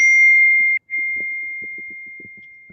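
A bright electronic text message chime rings out once, then a sustained tone lingers and slowly fades while soft muffled thumps and movement sound underneath.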